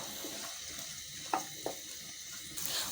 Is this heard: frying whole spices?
yes